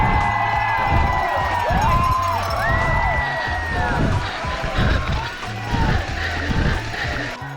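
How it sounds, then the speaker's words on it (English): A race crowd roars at the finish, with loud cheering, rising whistle-like shouts and rhythmic thumping that carry on steadily throughout. "the crowd went wild"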